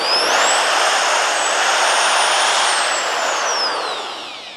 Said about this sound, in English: You hear the motor on this? It's really smooth motor.